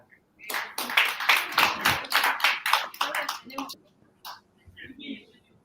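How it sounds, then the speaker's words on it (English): A small group claps for presenters at a workshop session, with a few seconds of scattered, uneven hand claps that quickly thin to a couple of last claps. "A big hand."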